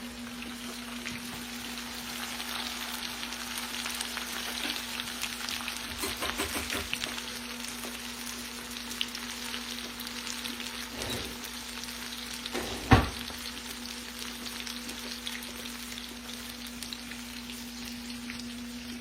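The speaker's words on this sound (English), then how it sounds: "y'all can watch it fry a minute" Fried green tomatoes sizzle steadily in a pan for the whole stretch, with a constant low hum beneath, a few soft stirring scrapes and one sharp clack partway through; no one speaks.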